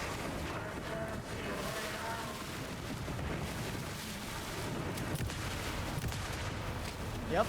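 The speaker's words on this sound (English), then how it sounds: "I think I can just shoot her" Gunfire in the video game Alan Wake 2, a continuous dense rumble of shots and booms filling the whole stretch at steady loudness, with voices faintly mixed in.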